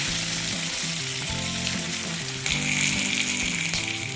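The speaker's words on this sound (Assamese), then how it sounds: "একেখন কেৰাহীতে মেৰিনেট কৰি ৰখা গাহৰি কেইপিচ দি দিছো।" Marinated pork rib pieces hit hot oil in a wok, giving a loud, continuous sizzle and spatter that swells midway as the meat settles, with no voices.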